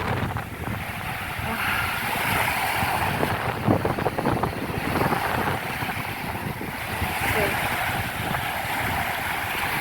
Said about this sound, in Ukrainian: Хочу донести до вас ці звуки моря чистого блакитного неба.